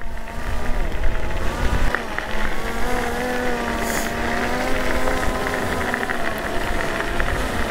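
TurboAnt X7 Pro electric scooter ridden on gravel, with a steady, loud motor whine and a rough rolling rumble that holds throughout.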